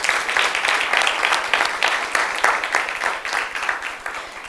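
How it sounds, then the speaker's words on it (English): Steady, dense applause from a large audience at a panel on artificial intelligence for citizen participation, a thick wash of overlapping claps filling the room at an even level throughout. "just let's do a round of applause for them"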